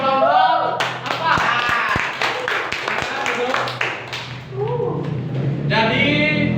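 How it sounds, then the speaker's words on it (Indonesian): A classroom of students claps for a student group, giving sharp scattered handclaps in a loose burst, with voices talking before and after. "Jadi ada tepuk tangan untuk kelompok apa?"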